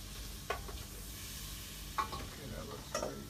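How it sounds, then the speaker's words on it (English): Herbes de Provence stirred into a pan for mussels meunière, a faint steady sizzle with three soft scraping strokes of a utensil, about a second apart. "And I'll give it a little stir."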